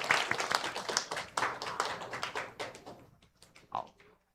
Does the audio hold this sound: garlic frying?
no